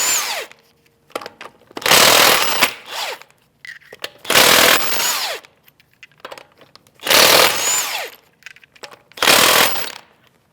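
Passenger front wheel lug nuts on a 2016-2025 Chevrolet Malibu 1.5L come off with a 19mm socket on a power tool, in four loud, close bursts of rattling hammering, each lasting about a second, with quiet gaps between them.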